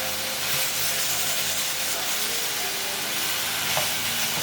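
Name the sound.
ground beef pieces frying in a pan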